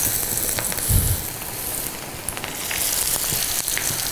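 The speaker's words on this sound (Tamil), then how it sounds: "நம்ம அப்படியே ஃப்ரை பண்ணிக்கிறோம்." Quail frying Karaikudi-style in a hot pan gives a steady, dense crackling sizzle throughout, close and even, with a brief low thump near the start and no talking.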